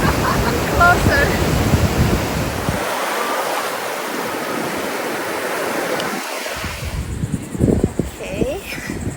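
Ocean surf at Folly Beach breaks and rushes ashore in a loud, steady wash of roaring water, with gusting wind buffeting the microphone and faint voices mixed in.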